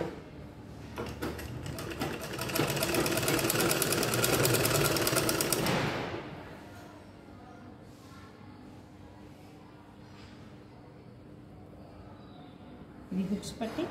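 A sewing machine stitching a double-layer garment body runs in a fast, steady mechanical chatter for several seconds, close and loud, then stops, leaving quieter room sound with faint handling noises.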